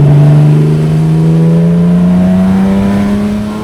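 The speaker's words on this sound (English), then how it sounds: "On the throttle." Classic race car engine accelerating hard on the throttle through a double-apex corner, a loud, steady rising roar close by with no gear change, fading slightly at the end.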